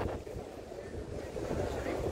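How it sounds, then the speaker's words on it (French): Wind blows steadily outdoors, buffeting the microphone with a continuous low rumbling roar that stays close and loud throughout. "Là il y a du vent."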